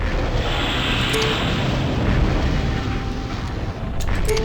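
Artillery strikes in the MechCommander game land as a dense, sustained rumbling roar of explosions, loud and continuous with broad low-frequency weight throughout.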